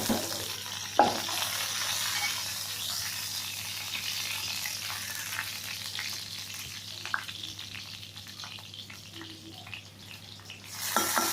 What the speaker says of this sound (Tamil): தாளிச்சோன்னா நல்ல டேஸ்ட் கொடுக்கும் கடுகு சீரகம்